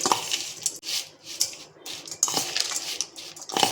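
Metal utensils clatter and scrape in a large pot while mixing green potato chevdo snack mix, a steady run of clinks and rustling scoops with no talking.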